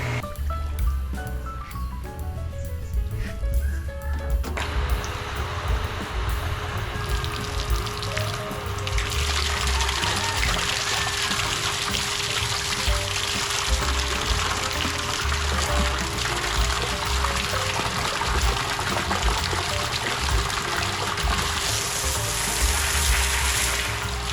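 A Pedrollo water pump pushing water through a pipe, a tonal hum at first, then a loud steady rushing gush of water that runs on continuously.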